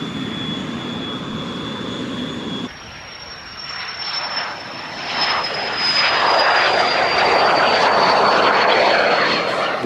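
A fixed-wing airplane on a night training flight, its engine droning loudly and steadily, dipping briefly then swelling back up, with no voices.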